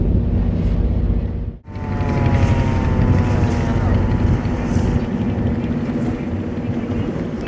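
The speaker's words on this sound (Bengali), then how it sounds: "রুবেল মুবিন নামক একটা কার্গো বোট, যে বিভিন্ন গাছগাছালি অর্থাৎ লাকড়ির টুকরা বহন করে" A wooden cargo trawler loaded with firewood passes on a river near a launch ghat in Bhola, its steady low engine drone and rushing water continuous and fairly loud, with a brief dip partway through.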